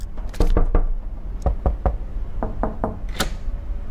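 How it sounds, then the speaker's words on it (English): Someone raps on a cabin door in the video game Overboard: a quick burst of three sharp knocks, then three more, then a final series of knocks. The blows are loud and close, with no speech. "Just knock."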